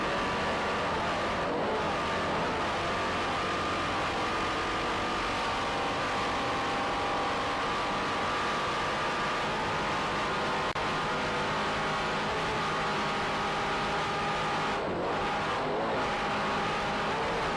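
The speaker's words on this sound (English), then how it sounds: "And there you see the boat going around a turn." Offshore racing powerboat, the B-class Fever race boat, roaring through a turn in an offshore race off Fort Lauderdale; a loud, steady engine drone holds throughout with slight swells in pitch, with no talk.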